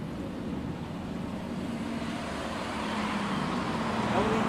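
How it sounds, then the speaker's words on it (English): Compressed air hisses steadily from a cracked-open valve on a fire hose reel being charged up, a broad, continuous rushing noise that swells slightly louder toward the end. "I'm going to crack this open just a bit, because this way it'll give us the best air sound"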